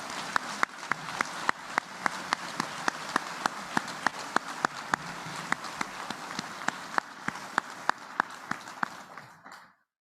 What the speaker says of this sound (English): Please join me in a round of applause for these newly commissioned second lieutenants.